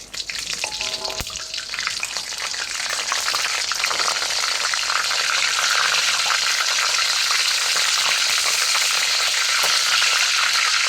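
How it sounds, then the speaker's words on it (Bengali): Chicken pieces fry in oil for a chicken roast, a dense, even sizzle that swells after a brief clatter at the start and then holds loud and steady, with no talking. "মুরগিগুলো ভাজা হয়ে গেছে, আমি এখন উঠিয়ে নেব।"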